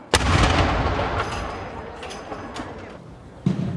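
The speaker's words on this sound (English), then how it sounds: "A 21-gun salute." A 21-gun salute at a royal ceremony in Wales: a loud artillery boom rings out and rumbles away, then a second sharp report follows about three seconds later.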